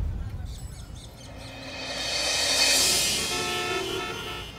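A parrot squawks in a loud, harsh burst that swells in the middle and tapers off, with voices faintly underneath in an indoor comedy scene.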